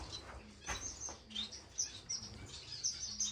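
Finches in an indoor breeding bird room give quick, bright chirps and tweets in scattered bursts, several birds calling close by over a quiet background.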